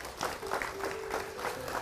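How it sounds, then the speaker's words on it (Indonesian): Applause from the audience at an Indonesian religious talk, a short burst of rhythmic clapping with faint crowd murmur beneath. "Tepuk tangan."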